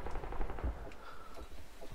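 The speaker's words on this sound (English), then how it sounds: "This is my gunshot." Gunfire in Call of Duty: Modern Warfare 3 deathmatch gameplay, a quick burst of several shotgun and rifle shots that sounds fairly faint and distant before tapering off.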